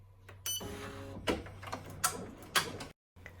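An embroidery machine stitches letters onto a Valentine coaster in the hoop, giving a rhythmic series of mechanical clicks and whirring needle strokes at close range before it stops briefly.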